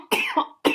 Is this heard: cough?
yes